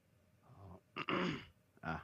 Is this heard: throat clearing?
yes